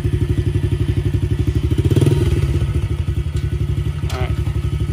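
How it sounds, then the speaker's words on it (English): A Yamaha TTR-110 kids dirt bike idles after a kick start, its small engine putting out a fast, even putter with a brief rise in revs midway, close and steady. "it has the kick starter, which is a nice backup if the battery's dead, and then it also has electric"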